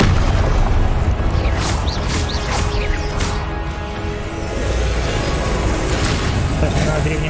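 Booming blasts from the Confringo explosion spell in the Hogwarts Legacy video game rumble through dense, loud in-game noise, while a person talks over the action.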